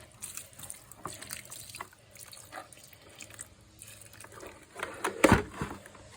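Water trickles and splashes softly into a pot of soil, with a louder gush near the end before fading back to a gentle pour.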